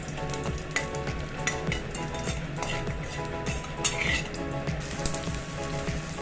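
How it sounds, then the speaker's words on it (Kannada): Pulao spices roast in hot oil with a steady, close sizzle and spitting crackle, broken by occasional stirring scrapes and pops, with no voices. "ನಾವೇನು ಪಲಾವ್ ಐಟಮ್ ಇಟ್ಕೊಂಡಿದ್ರು ಅದನ್ನು ಹಾಕ್ಕೊಂಡು ನೀಟಾಗಿ ರೋಸ್ಟ್ ಮಾಡ್ಕೊಳ್ಳೋಣ."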